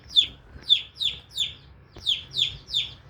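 A young rooster chick peeps repeatedly in quick, high chirps, seven calls in a steady rhythm, close and clear over quiet background.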